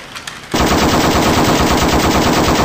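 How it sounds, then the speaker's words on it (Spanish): Rapid machine-gun fire used as a sound effect in a Spanish-language comedy skit, bursting in after a half-second of quiet and continuing loud and sustained, a dense stream of shots to the end. "Ellos, ustedes agarren las armas y disparen."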